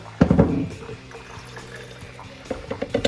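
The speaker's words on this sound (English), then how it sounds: "Watching the bourbon go into the measuring cup" Bourbon pours into a measuring cup, a brief splashing gush at the start that settles into a soft, quieter trickle, then a few faint clinks and splashes near the end.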